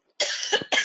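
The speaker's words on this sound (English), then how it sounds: "I'm going to laugh at myself because I have to cough" A single short cough rises out of silence and breaks off, then a second cough starts right after it. Both are close and fairly loud, with no talking.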